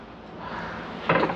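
An Electrolux Viking 720 canister vacuum has its bag and door fitted, giving a soft rubbing, wooden-sounding clunk near the end as the door is pressed into place, close and alone.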